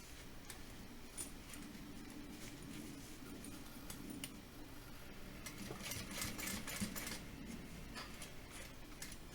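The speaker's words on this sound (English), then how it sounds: "we're going to feed it under our presser foot, and we're going to stitch all the way around this box." A sewing machine stitches around a tote bag, running in a faint, steady whir with light ticking and a few clicks over a quiet background, no voices.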